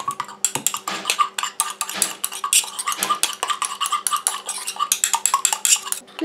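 Rapid, irregular metal-on-glass clinks and scraping as a spoon stirs active ingredients, including hyaluronic acid, into the water phase of a homemade hibiscus night cream in a small container. Close, steady and continuous, with no talking.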